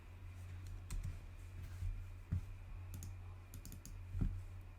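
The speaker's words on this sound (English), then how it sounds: "then you'll type in whatever your message is" Keys clicking on a computer keyboard as a short title is typed, a few faint scattered taps over a steady low hum, with no voices.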